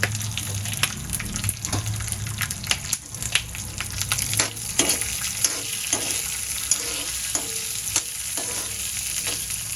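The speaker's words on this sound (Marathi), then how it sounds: "शेंगदाणे भाजत आले आपण त्यावर आपल्या मिरच्या घालूया, तळून घालूया" Peanuts and green chillies fry and sizzle in a hot pan for a garlic-shoot thecha, with a steady crackle and hiss broken by scattered sharper pops and the scrape of stirring, no voices.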